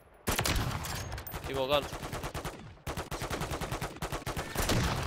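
Rapid bursts of gunfire in Call of Duty Modern Warfare Zombies during the Legacy Fortress fight, near and loud, with dense repeated shots throughout and a player talking over it.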